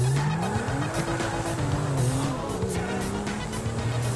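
Car driving in Grand Theft Auto, a steady engine drone with shifting pitch and faint tire noise, continuous and close with no talk.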